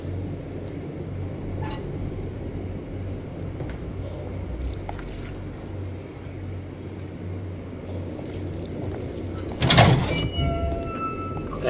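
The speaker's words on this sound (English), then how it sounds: "just went straight through a door" A door opening in the video game Conarium during a snowstorm: a quiet ambient bed with faint clicks, then one sharp sliding, clattering burst near the end, briefly louder than everything else.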